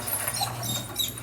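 Quick, fluttery panting from an anxious six-month-old Rhodesian puppy in a kennel, close and continuous, with faint squeaky whimpers mixed in.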